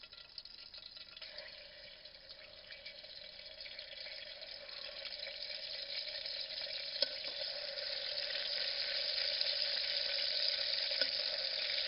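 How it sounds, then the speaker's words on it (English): Chicken pieces frying in a pan with teriyaki marinade, a steady close sizzle that grows slightly louder over time, with faint clinks of stirring and no talking. "It's frying away nicely there."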